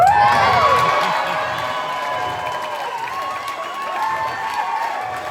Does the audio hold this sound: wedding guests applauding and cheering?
yes